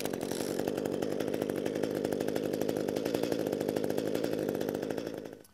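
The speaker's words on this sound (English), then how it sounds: "our gas hedge trimmer should fire on the first or second pull" Small two-stroke engine of an Echo gas hedge trimmer runs nearby at a steady, buzzing high idle, loud and unbroken, then cuts off abruptly at the end.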